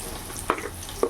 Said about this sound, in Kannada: ಅವಲಕ್ಕಿ ಒಗ್ಗರಣೆ ಕೊಡ್ತೇನೆ